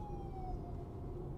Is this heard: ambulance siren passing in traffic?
yes